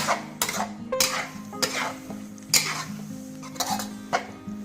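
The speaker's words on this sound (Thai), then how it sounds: "คั่วครับ ให้เข้ากับหมูสับแล้วก็ไข่นะครับ คั่วให้สุกเลยนะครับ" Minced pork and egg being stir-fried in a pan, with repeated sharp scrapes and clacks of a spatula against the metal every half second or so over a soft sizzle.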